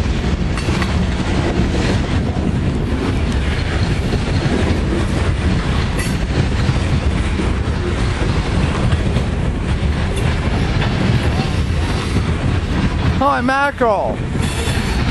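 A westbound freight train rolls past close by, a loud continuous rumble with clattering wheels and a brief squeal near the end, with a short spoken exclamation over it.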